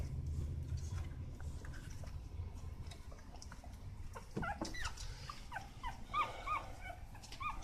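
A four-day-old Rottweiler puppy whimpers in its sleep with faint, high, squeaky cries that grow more frequent toward the end over a quiet low background.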